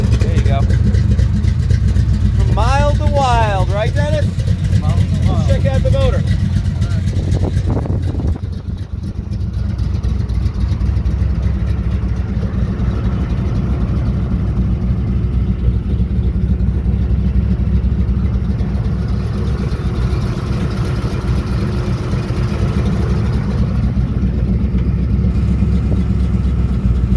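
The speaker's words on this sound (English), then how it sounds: "Check out the motor." A 1964 Chevrolet Impala SS resto-mod with a 496 hp Merkel 406 V8 and aftermarket exhaust runs steadily, its low, loud engine rumble filling the whole stretch while people talk over it early on.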